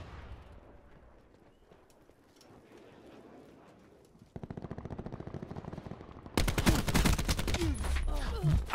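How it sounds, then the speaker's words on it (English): Call of Duty Black Ops gunfire from shooting from the hip, starting faint under background game noise, then turning into rapid loud automatic bursts that grow heavier and denser toward the end. "I tried to shoot from the hip"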